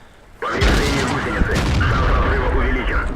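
Tank cannon fire from a T-34-85 in the World of Tanks game, a sudden loud boom followed by sustained rumbling battle noise and engine drone.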